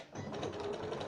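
A sewing machine stitches a churn dash quilt block, a short, quiet burst of rapid mechanical needle clatter lasting about a second.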